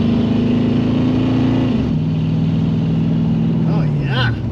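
A Lincoln Mark VII LSC car engine droning steadily and loud as it is driven, its pitch holding then dropping as it shifts down, with a voice speaking over it near the end.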